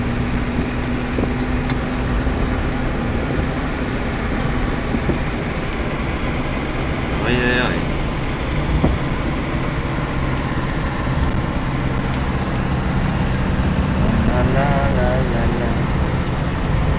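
A 1965 Ford Anglia driving at around 50–60 km/h, a steady wind-buffeted engine and road drone heard from inside the car, with people talking over it at times.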